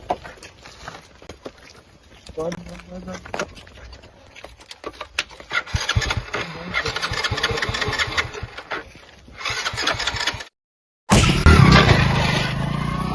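A motorbike engine sputters through uneven start-up bursts, then settles into a steady close rattling run before cutting out briefly and roaring back louder.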